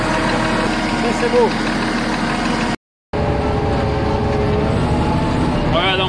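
A cold-started bulldozer diesel engine runs steadily at idle after an hour of preheating in minus 26 degree cold, a continuous broadband rumble with a short break midway, while someone speaks briefly over it.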